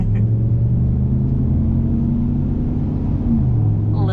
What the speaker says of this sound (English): A little bouncy and noisy there thanks to our off-road tires.